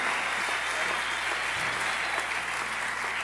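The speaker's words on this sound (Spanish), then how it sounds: "Si ese aplauso es para nosotros," Crowd applause at a Christian music concert, a sustained, even roar of many hands clapping at moderate level with no break, heard alone without talk.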